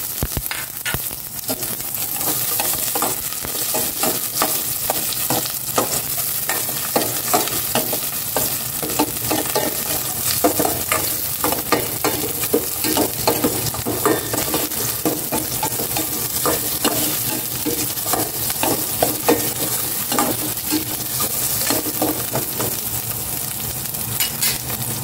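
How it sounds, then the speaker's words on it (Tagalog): Garlic and onion sautéing in oil in a home kitchen pan: steady, loud, crackling sizzle with dense spitting pops close by, continuing without a break. "Igisa ko na itong bawang."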